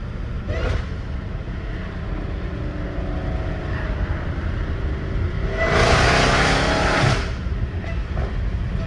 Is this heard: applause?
no